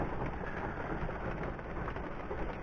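Steady rain falling outside around a parked F250 pickup truck, a constant even hiss with no speech over it.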